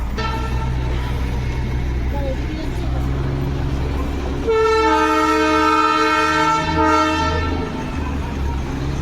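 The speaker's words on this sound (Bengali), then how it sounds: "এই তো ট্রেন, টয় ট্রেন, এই যে টয় ট্রেন, এই যে টয় ট্রেন" A Darjeeling toy train sounds a long, loud multi-tone horn blast about halfway through, over the steady close rumble of the engine and wagons, with voices in the background.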